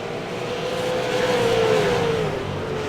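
A super late model race car at Five Flags Speedway roars steadily at high revs along the backstretch, loud and continuous with a slowly falling engine pitch, and no voices.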